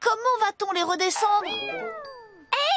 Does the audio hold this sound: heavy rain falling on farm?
no